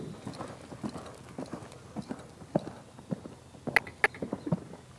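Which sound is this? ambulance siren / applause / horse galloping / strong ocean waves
horse galloping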